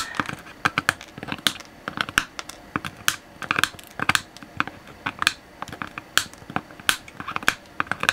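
Sharp snips of side cutters trimming long component leads off a circuit board during a 1970s stereogram upgrade, a rapid irregular series of crisp close clicks with no talk.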